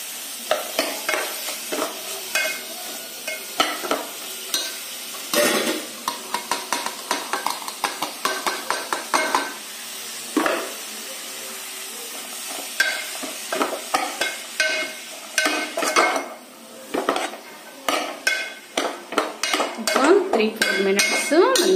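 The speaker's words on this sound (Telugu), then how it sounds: "మనకి ఇప్పుడు క్యారెట్ మంచిగా గోలింది" Grated carrot fries in a pan for a carrot tomato curry, with a continuous sizzle and frequent close metal spoon scrapes and clinks against the pan, stirred in irregular bursts throughout.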